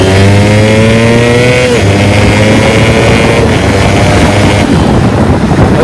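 A loud modified motorcycle with an aftermarket racing exhaust revs hard up close, its engine note climbing, then dropping into a rough, blaring roar that continues to the end.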